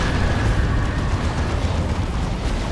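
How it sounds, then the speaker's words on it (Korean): A sustained, roaring, low-heavy blast from a grenade explosion in a Warhammer 40K game, loud and dense throughout with no quiet gaps. "수류탄 하나 더!"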